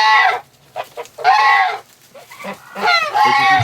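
Geese honking loudly and repeatedly at close range inside a winter shelter shared with ducks, several harsh overlapping calls in bursts with short gaps.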